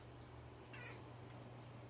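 A pet cat named Milo gives a single short meow, faint and brief over a steady low hum in a quiet room, with no talking.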